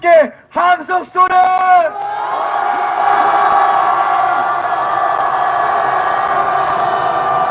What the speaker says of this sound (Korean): 윤석열 대통령께 함성 소리!